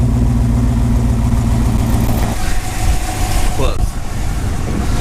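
A truck engine idles with a low, steady rumble, then the exhaust cutout opens partway through and the tone turns rougher and more open, with a brief mechanical whir of the cutout motor near the end.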